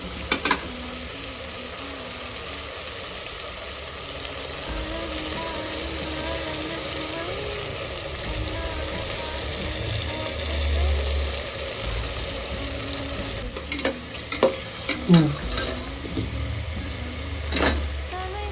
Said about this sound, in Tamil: இன்னும் கொஞ்சம் வதங்கணும்